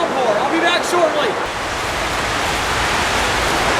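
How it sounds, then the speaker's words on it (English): Torrential rain downpour pouring steadily outdoors in a tomato garden, a dense, even broadband hiss that stays loud and constant throughout, with a faint voice briefly audible near the start. "Holy cow, it's a torrential downpour."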